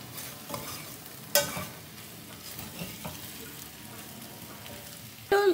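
Spinach and potato curry stirred and fried in a pan with tomatoes: a soft, low sizzle under a few scraping stirs, with a sharper clatter around the middle and again near the end.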